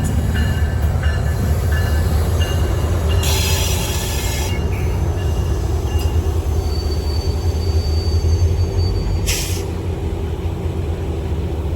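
A MARC commuter train rolls past on Maryland rails, a loud continuous rumble of wheels with high metallic squeals flaring in a few bursts over the steady roar. No voices.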